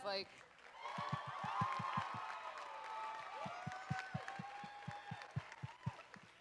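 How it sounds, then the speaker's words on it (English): Audience applause at a concert honoring a graduating senior, a steady wash of clapping with a rhythmic thumping beat under tonal music and a speaking voice. "I think she needs another round of applause."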